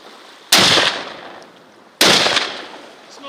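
Two sharp rifle shots ring out on a Kodiak Island hunt for Sitka blacktail deer, about one and a half seconds apart, each a loud crack followed by a short fading echo in the open air.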